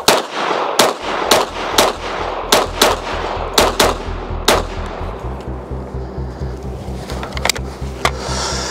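Grand Power Stribog SP10 A3 carbine firing 10mm Auto, a string of loud, sharp close-range shots at an uneven rhythm, roughly a dozen reports with ringing tails and a low steady hum underneath.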